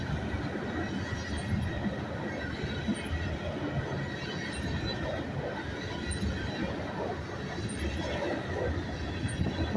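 A northbound coal train out of Tennessee bound for Atlanta rolls steadily past at close range: a loud, continuous rumble and clatter of wagons with faint squeals from the wheels, and no talk.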